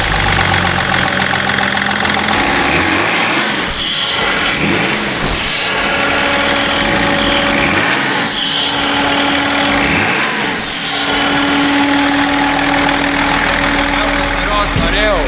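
A BMW 330d diesel engine runs steadily at close range, with a clattering idle broken by several rising-and-falling revs; a voice talks over it.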